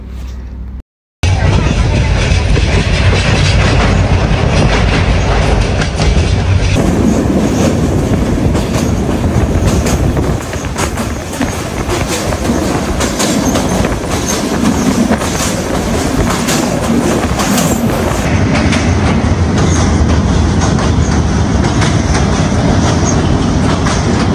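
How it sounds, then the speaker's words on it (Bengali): Inside a moving local train, a loud continuous rumble with rhythmic rail clatter and wheel noise, close and steady throughout with occasional squeal, after a brief silent gap at the start. "Local train."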